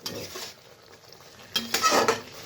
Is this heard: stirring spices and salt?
yes